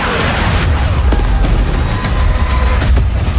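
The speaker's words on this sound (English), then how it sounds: "Returning gunfire in the streets of Cairo, and crippling machines of war on the shores of Gibraltar." Battlefield 6 gunfire and explosions in urban combat: a loud, dense barrage of rapid shots and heavy booms rolling through, with sharp cracks scattered across the stretch and deep rumbling underneath.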